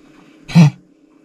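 A cat hacks once to bring up lint. A single short, sharp cough-like burst stands out loud and close against a quiet background.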